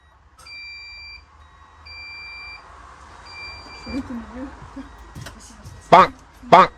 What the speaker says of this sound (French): Ça bip.